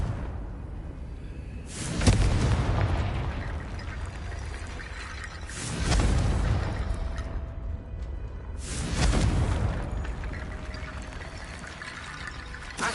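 Confringo fire-blast spell exploding in Hogwarts Legacy: three loud, broad whooshing blasts at steady intervals, each swelling and fading into a rushing roar over a continuous background of game ambience.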